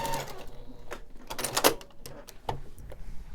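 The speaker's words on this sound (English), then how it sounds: "I will sew a diagonal line from point to point" A sewing machine stitches a diagonal seam joining fabric strips, its motor whirring in short, uneven bursts with brief pauses between runs. The sound is close and moderately quiet, with no speech.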